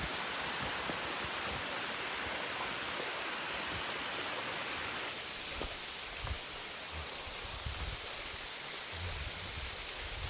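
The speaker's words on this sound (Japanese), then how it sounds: "玉すだれの滝って言われて" Tamasudare waterfall in Saga, Japan, heard as a continuous hiss and roar of cascading water, steady and moderately loud throughout with no voices.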